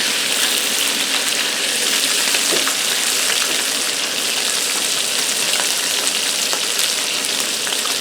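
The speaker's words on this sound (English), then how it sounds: "I'm sure you guys are bored of watching me cook bacon" Bacon frying on a disc cooker, a steady dense sizzle with faint crackles running evenly throughout, close and fairly loud with no talking.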